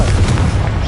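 A Confringo explosive spell from the video game Hogwarts Legacy goes off as a single short, loud, booming blast that fills the whole moment with rumbling low-end force.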